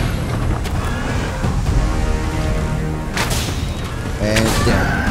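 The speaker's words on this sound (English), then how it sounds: "And there's one explosion." Booming blasts and rumbling bursts in a noisy Dragon's Dogma 2 game soundscape, with a couple of sharp loud hits standing out above the dense background.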